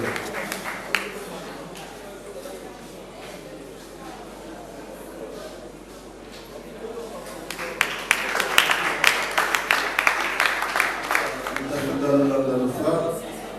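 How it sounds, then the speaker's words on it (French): Scattered clapping grows into a burst of applause from a crowd partway through, with an announcer's voice talking over it, at a festival award ceremony as a family joins the podium. "Applaudissons s'il vous plaît"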